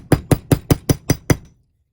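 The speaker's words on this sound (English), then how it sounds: "Little ball peen hammer." A small ball peen hammer strikes a workpiece seven times in a quick, even rhythm, each blow sharp and close, then the sound stops.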